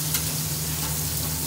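Food sizzles and fries in a pan over a low gas flame, a steady close crackle with no pauses and no voices.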